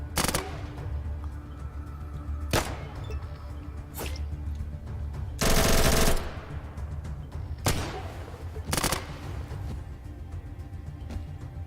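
Scattered gunfire from RPK, SKS and AK rifles and a shotgun in the video game Atom RPG: sharp isolated shots and one longer burst, spaced over a low background hum.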